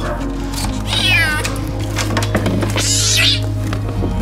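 A kitten meows twice, high and close, with a short pause between cries over a low steady hum.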